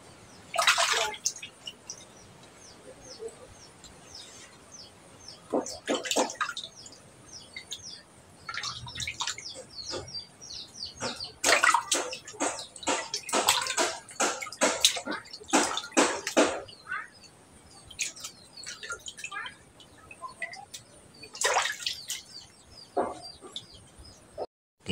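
Milkfish (bangus) belly rinsed by hand in a basin of water, with intermittent splashing and trickling bursts, close and fairly quiet, while birds chirp in the background.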